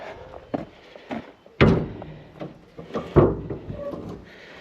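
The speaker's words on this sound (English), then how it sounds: "That's the door." A vehicle door, apparently on a truck, shuts with a solid thud. Other knocks and clunks surround it, and a second heavy thump follows a moment later.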